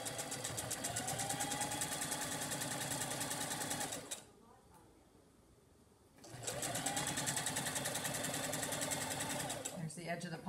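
Sewing machine backstitching over the stitched pocket of a cotton fabric surgical mask, running loud and steady in close bursts with a roughly two-second pause midway before stitching resumes.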